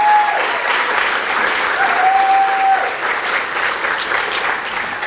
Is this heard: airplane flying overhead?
no